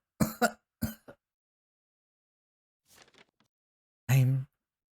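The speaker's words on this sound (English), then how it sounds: "I'm coughing blood?" A character clears the throat and coughs in short bursts separated by silence, ending in a louder voiced hack, close and clear.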